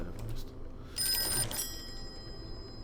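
A telephone rings in the Call of Cthulhu video game, a clear electronic trill lasting about half a second over a low ambient rumble, with faint background sounds before and a lingering tone after.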